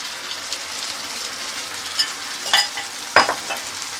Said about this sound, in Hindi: अब हम जो एलोवेरा की पल्प निकाला था ये अब हम इसमें डालेंगे।